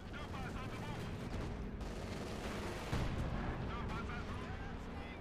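Panzerwerfer rocket artillery firing in a World War II video game, a dense continuous barrage of booming blasts and rumble with a stronger thump near the middle, loud and steady throughout.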